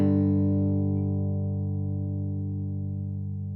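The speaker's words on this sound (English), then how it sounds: "The biggest one's the plate reverb." Electric guitar with plate reverb: a single sustained chord rings out loud and close, decaying slowly and evenly with a smooth, lingering tail.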